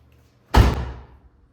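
An OBS Ford pickup door swings shut with a single loud, close slam, followed by a short rattling ring-out that fades within about half a second.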